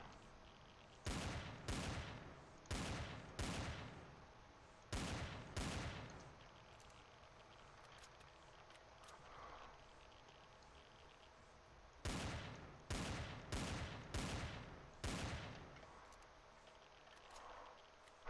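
Gunfire shooting worms in the desert world of the Empyrion Galactic survival game: several bursts of rapid, loud shots in quick clusters, separated by a long quieter stretch before more bursts follow.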